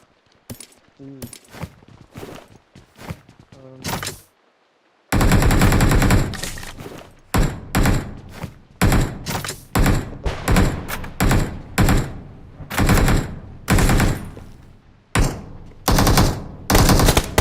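Submachine gun with an extended magazine firing in a battle royale video game, loud rapid bursts repeating in quick succession with short gaps, after a quieter stretch of scattered taps and clicks.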